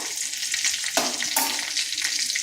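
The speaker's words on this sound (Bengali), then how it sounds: "ফোড়নে দিচ্ছি পাঁচ ফোড়ন একটা তেজপাতা গোটা জিরা" Panch phoron whole spices, a bay leaf and cumin seeds sizzle sharply in hot oil, a loud close crackle with bursts of spattering and a stirring scrape, no voices.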